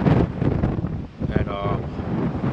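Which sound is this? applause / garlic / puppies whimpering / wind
wind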